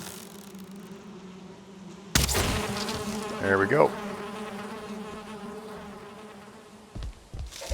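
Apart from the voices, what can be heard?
bees buzzing in video game Valheim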